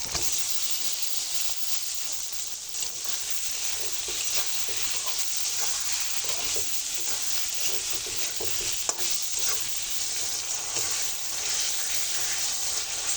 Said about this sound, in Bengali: পেঁয়াজগুলো একটু ভালো করে ভাজা হয়ে গেছে